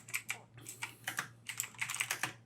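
Quick bursts of close computer keyboard typing as a project name is entered, crisp individual key clicks in short runs separated by brief pauses.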